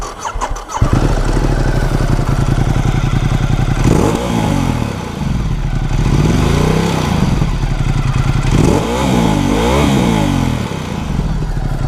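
A 2016 Ducati XDiavel S motorcycle engine fires up with a sharp start, then settles into a loud, close, throbbing idle broken by a series of rising and falling throttle revs.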